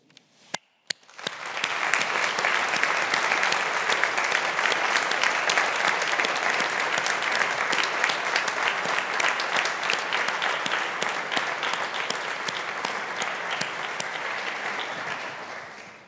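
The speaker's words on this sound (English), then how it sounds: "a sincerely felt round of applause for those with you in the hall today" Sustained applause from a large crowd filling a graduation hall at Strathclyde Business School, steady and loud for the whole stretch before tapering off at the end, with no talking over it.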